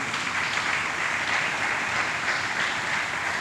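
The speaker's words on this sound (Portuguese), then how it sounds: "Será que tem alguém aqui para celebrar e dar um aplauso a Jesus?" A church congregation applauds in praise of Jesus during a sermon, a dense, steady wash of clapping that holds at full strength throughout, with no voices over it.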